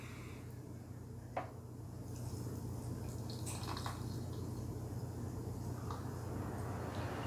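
Room temperature water is poured over tea leaves for cold brew, a quiet steady trickle and splash building slightly, close by, with a faint clink early on.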